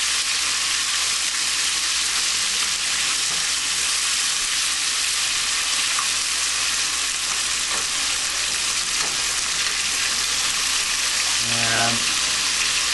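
Meat for chili colorado sizzles and fries in a pan in a steady, bright hiss, with a brief clatter of stirring near the end.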